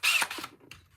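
A power drill whirs in a short, loud burst while working on a broken $10,000 RC car, then winds down into fainter mechanical rattling.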